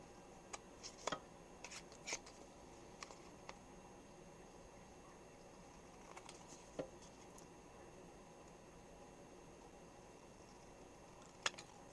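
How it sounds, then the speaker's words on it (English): Several short, crisp snips of scissors cutting paper while making a card, scattered through a quiet room, each a brief sharp cut, with long pauses between them and no talking. "I can just take my scissors and cut right along those edges"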